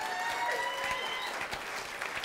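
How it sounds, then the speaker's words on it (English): Audience applause at a university jazz combo concert, steady dense clapping from a room full of listeners, continuous and fairly loud throughout. "give an extra big, warm round of applause"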